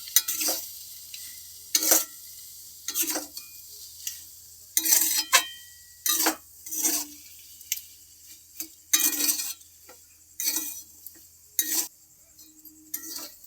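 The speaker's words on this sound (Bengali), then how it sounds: "ভালো করে এটাকে মিক্সড করে নেব।" A spoon stirs and mixes a salted soybean chop mixture in a bowl, giving repeated scraping, clinking strokes at an uneven rhythm, close and clear with no talking.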